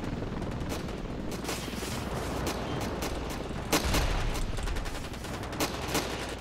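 Rapid automatic gunfire from the stick-figure battle game Ravenfield, with dense overlapping shots and bursts rattling continuously at high volume and no pauses or talking.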